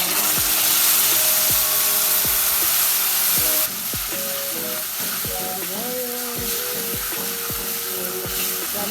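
A mixer-ground spice paste fries in a hot pan for egg curry, sizzling steadily while a spoon scrapes and stirs in regular strokes. No talk.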